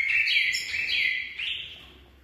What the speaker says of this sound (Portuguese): Vou apresentar para vocês aqui a coleira mutação Lutino. É uma fêmea de coleiro.